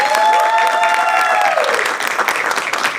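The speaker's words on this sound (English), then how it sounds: "I think that deserves a round of applause" Applause from an audience at a school board meeting building into steady clapping, with a few voices and a tonal ringing fading out early on.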